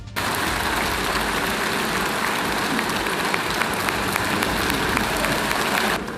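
Applause from a government assembly fills the space, a dense, steady roar of many hands clapping at once that holds evenly for about six seconds before stopping abruptly.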